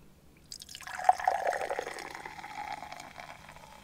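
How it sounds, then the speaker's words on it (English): Orange sparkling drink pours into a glass in a steady fizzy stream that starts abruptly and tapers off over a few seconds, fairly close and alone. "Let's pour it."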